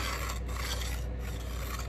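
A scribe is drawn down a line on sheet metal for a Traxxas TRX4 slider, making a close, continuous scraping rasp that runs unbroken for nearly two seconds.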